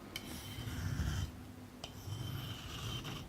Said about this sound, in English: So we're doing a few more alternating strokes there to get rid of that burr.